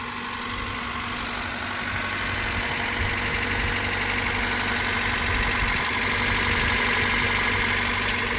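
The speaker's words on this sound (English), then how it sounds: "I just wanted to pause real quick and kind of show the vehicle running." A 1984 Honda City's engine idles steadily and close, a continuous low rumble with a fine rapid tick and even vibration throughout.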